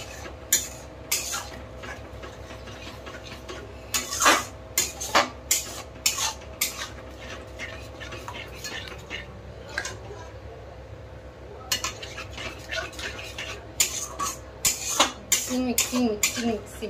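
Food stirred and mixed in a pot for an Odia goat fat curry, repeated sharp clinks and scrapes of a spoon against metal in irregular bursts over a low frying hiss, with a voice talking intermittently.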